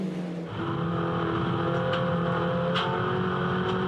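MINI Challenge race cars lap Barbagallo Raceway, their engines whining steadily at high revs after a brief dip early on, with sustained tonal drone and faint clicks, no voices.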